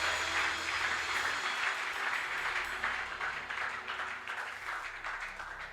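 A congregation applauds and cheers for Jesus at a church seminar, sustained, dense clapping with a crowd roar, heard from some distance and gradually thinning toward the end.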